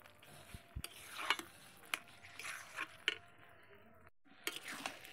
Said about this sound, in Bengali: গরম মশলা দিয়ে এবার নেড়ে নেব।